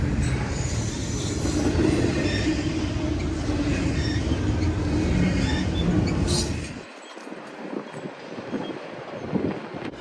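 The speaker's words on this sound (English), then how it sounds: "This is the egregiously late northbound BNSF through power intermodal" Northbound BNSF intermodal freight train rolling past a street crossing, a loud steady rumble of cars and wheels for most of the span that drops away abruptly near the end, leaving thinner residual rattle and wind.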